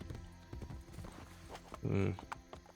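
A horse's hooves clop on the ground in Assassin's Creed Brotherhood, a few uneven steps ending in a short louder burst, with a voice talking over them.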